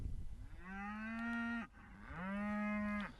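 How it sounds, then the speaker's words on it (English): Cattle on a farm in a gas-drilling community low out twice in long, sustained moos, clear and fairly close with faint ambient rustle before them. "Come on, cows."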